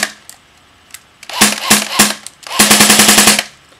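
A JG G36K airsoft gun firing on an 8.4 volt battery: a few single shots followed by short bursts and a rapid full-auto string, loud and close with a sharp mechanical clatter.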